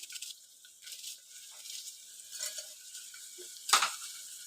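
Onion fries in oil for a Kerala-style kadala (chickpea) curry, giving a steady low sizzle with occasional stirring scrapes. A sharper clatter comes near the end. The sound is close but fairly quiet, and no one speaks.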